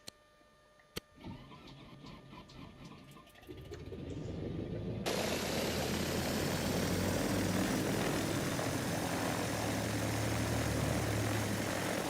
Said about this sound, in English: We're going to start the engines and watch this animation.